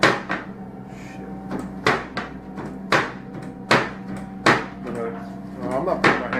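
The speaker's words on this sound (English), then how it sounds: "doors slam so violently that they actually break." A cupboard door bangs shut again and again in paranormal footage, about eight sharp wooden slams at irregular intervals, loud and close over a constant hum, with talking in between.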